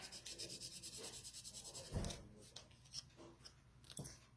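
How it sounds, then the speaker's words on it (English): Paper is burnished from the inside while making a ladybug treat craft, giving very faint, quick rhythmic rubbing strokes up close, then a few scattered scrapes and rustles. "And then I just burnish it from the inside."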